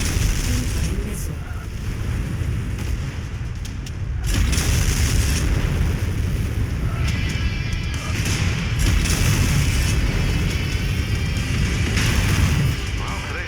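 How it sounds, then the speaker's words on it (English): In the Mechwarrior 5 game, an incoming missile strikes and explodes in a dense wash of heavy booms and rumbling blasts over continuous battle noise, with crackling bursts rising and falling throughout. "Incoming missile."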